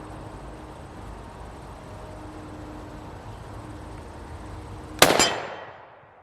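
A lever-action rifle fired once at an outdoor gun range, a single sharp loud report near the end that rings out and decays after a stretch of low ambient noise.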